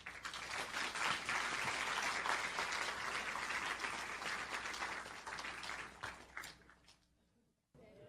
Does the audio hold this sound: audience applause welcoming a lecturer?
yes